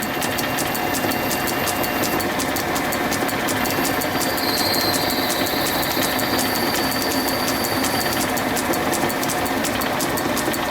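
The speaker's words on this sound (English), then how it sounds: "We're going to drill this one 14mm deep." Steady mechanical whir of a lathe drilling a 14mm-deep hole in a metal engine part, running continuously, with a faint high-pitched squeal rising briefly partway through, no talking.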